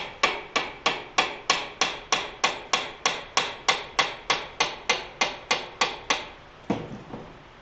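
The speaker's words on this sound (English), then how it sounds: "That should be a soft hammer, but I don't have one on hand." Steady run of about twenty evenly spaced hammer taps on parts of a South Bend 10L Heavy 10 lathe motor drive, close and crisp, each ringing briefly, with a slightly different final blow after a pause and no talk.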